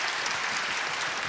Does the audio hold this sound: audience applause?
yes